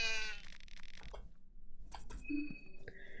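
A goat in the horror game Fear and Hunger 2: Termina gives a wavering, nasal bleat at the start, followed by sparse game sound effects and short tonal chimes.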